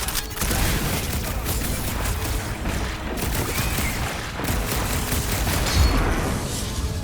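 Dense, continuous gunfire and blasts from the Guardians of the Galaxy video game, a loud unbroken barrage of rapid shots and booms filling the whole stretch.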